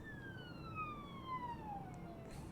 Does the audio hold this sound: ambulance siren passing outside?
yes